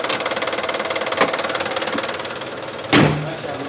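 A car engine idles with a rough, rhythmic knock that sounds like a farm tractor. It runs steadily and close by, with a couple of louder thumps and a brief voice partway through.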